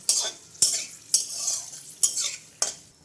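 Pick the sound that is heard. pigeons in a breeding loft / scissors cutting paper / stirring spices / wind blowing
stirring spices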